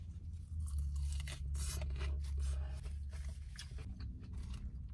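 Close, loud crunching and chewing of shrimp salad topped with crisp tortilla strips, with repeated bites and mastication over a low rumble, with no talk.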